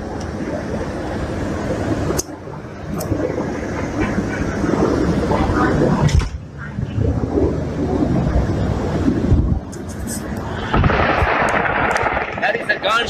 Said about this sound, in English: That is a gunshot.